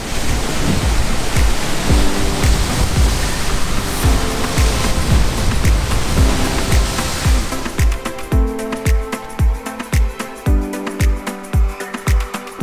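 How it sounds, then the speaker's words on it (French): Ocean waves surging and crashing into a rock funnel on the Curaçao coast near Grotte Nip, a loud continuous roar of surf, then a series of rhythmic heavy booms as water is forced upward, with wind buffeting the microphone. "les vagues vont aller se fracasser dans un genre d'entonnoir, puis là ça va propulser l'eau dans les airs"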